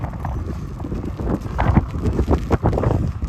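Strong westerly wind buffets the microphone outdoors in Leith, Edinburgh, with heavy, uneven rumbling gusts that swell louder midway through.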